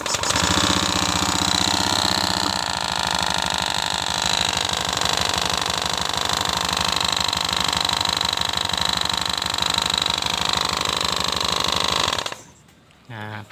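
A scooter engine runs with its CVT area disassembled, giving a loud, steady, rough mechanical drone with a rattling low hum that continues for about twelve seconds and then cuts off abruptly.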